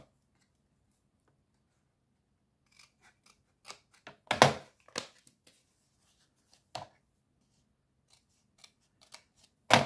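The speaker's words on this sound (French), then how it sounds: "c'est la boîte qu'il faut que je coupe" Scissors cutting through a cardboard gift box, with sparse crisp snips and crunches, a loud cluster in the middle and a few scattered cuts before and after, close up and with no talking.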